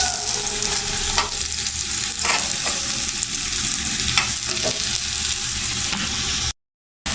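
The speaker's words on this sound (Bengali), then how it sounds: "আলু ভাজা ওর সাথে" Loud, dense sizzling of potatoes frying in a pan, steady with a few brief stirring scrapes, cutting off abruptly near the end.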